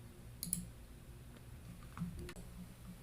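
Mouse clicks on a computer while saving settings, a couple of sharp, light ticks near the start and another small click later, close and quiet over a faint room hiss.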